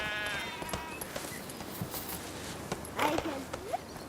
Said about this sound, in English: It's a man on a white horse.